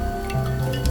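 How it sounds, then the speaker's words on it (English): A paintbrush dips into a container of fresh, clean water for acrylic painting, giving a brief soft squish and drip over a steady background hum. "Fresh, clean water, always good to start. I'm not always the best at doing that, but for this lesson we will. Dip your brush in there nicely."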